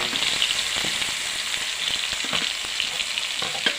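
Crushed onion frying in hot oil for an Assamese local chicken curry, giving a steady, close, dense sizzle with faint scraping stirs scattered throughout and no voices.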